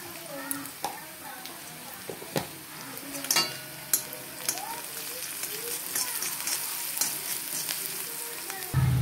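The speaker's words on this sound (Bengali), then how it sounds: "দেখো পেঁয়াজগুলি লাল লাল করে ভাজা হয়ে গেছে।" Onions frying in a pan with salt and a little turmeric, a steady soft sizzle running through with occasional stirring clinks and scrapes, close by, with a brief louder clatter near the end.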